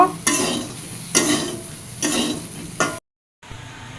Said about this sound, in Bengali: সেই তেলের ভিতরে সয়াবিনগুলো হালকা একটু ভেজে নিব